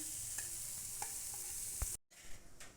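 A sweet dough of rice, jaggery and coconut fries in hot oil with a steady, soft sizzle. A few stirring clicks sound over it before a brief break, then the frying continues quietly.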